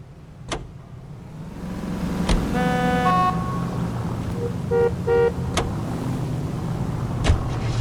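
Car driving in L.A. Noire, a steady low engine rumble throughout with a couple of short sharp clicks and a brief horn toot midway.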